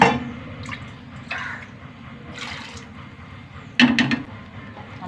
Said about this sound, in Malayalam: കുറച്ചും കൂടി വെള്ളം ഒഴിച്ച് കൊടുക്കാം.